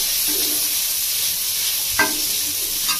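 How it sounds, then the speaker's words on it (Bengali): Chicken pieces frying in a pan, a continuous hissing sizzle with a couple of sharp stirring scrapes, close by and with no voices over it. "বন্ধুরা চিকেনটা আমার ভাজা হয়ে গেছে"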